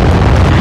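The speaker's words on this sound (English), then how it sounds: "Bomb exploded." A bomb explodes in a first-person shooter video game, a loud, sustained rumbling blast filling the whole short moment with dense low-end boom and no talking.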